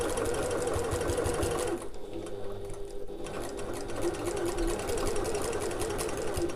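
A sewing machine stitches a backpack seam at a quarter-inch allowance along the top, running in a fast, steady close buzz that dips briefly in the middle before resuming.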